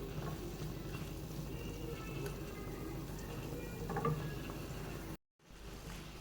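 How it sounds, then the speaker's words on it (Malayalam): Mushrooms with salt are stirred and sautéed in a pan, giving a steady, low sizzling hiss with faint utensil scrapes and a brief dropout near the end. "നല്ലതുപോലെ ഇളക്കി മിക്സ് ചെയ്ത് ഒന്ന് വഴറ്റിയെടുത്തുകൊണ്ട് വരാം."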